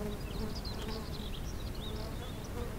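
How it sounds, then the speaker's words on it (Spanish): A beehive on a dry, sunny day gives off a steady, high, lively hum of many bees, with no other sound over the low droning swarm. "hay un zumbido en la colmena agudo y alegre"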